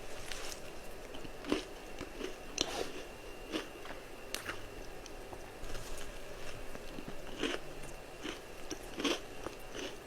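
Crunchy bites and chewing of a Crumbl brookie pie cookie, a cookie shell with a gooey brownie center, as repeated crisp close-up crunches recur at an irregular pace with no talking.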